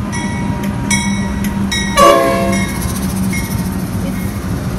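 A train led by locomotive NR66 rolls past with a constant heavy rumble, horn blasts sounding in short bursts and one loud, close blare midway.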